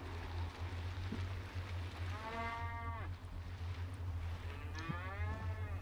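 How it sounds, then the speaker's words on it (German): Two drawn-out cow moos in the video game Scrap Mechanic, a few seconds apart and fairly faint, over a steady low engine hum. "Entschuldigung für Lex, ich habe eine Kuh überfahren."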